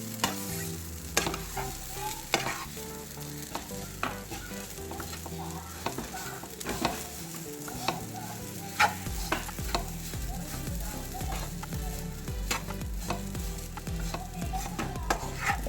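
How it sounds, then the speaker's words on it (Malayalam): Small onions being stirred into a tuna (choora) fish curry in a pan, with a spoon scraping and clinking in a steady run of strokes over a low simmering sizzle, close and fairly loud. "ഇതെല്ലാം കൂടെ ഒന്ന് നന്നായിട്ട് മിക്സ് ചെയ്തിട്ട് അടുപ്പ് ഓഫ് ചെയ്യാം"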